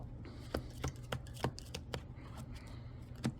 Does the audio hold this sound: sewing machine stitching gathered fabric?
no